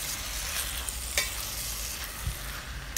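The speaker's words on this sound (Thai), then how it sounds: "ผัดไปเรื่อยๆนะคะจนคะน้านะคะสลดเรียบร้อยแล้วนะ" Kale stir-fries in a pan with a continuous hiss and sizzle, broken by a few sharp clicks of a spatula against the pan, steady and close with no voices.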